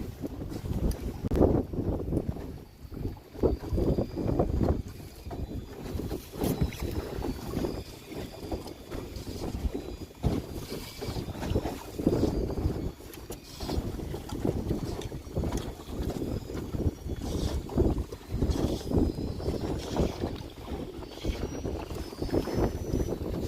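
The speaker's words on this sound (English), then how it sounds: "It's the wind going through the braided fishing line" Wind whistling faintly through braided fishing line aboard a fishing boat, thin high tones riding over steady gusty wind rumble and water noise without a break.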